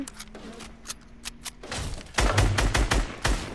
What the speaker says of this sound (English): Yeah, just shoot it. So nobody gets it.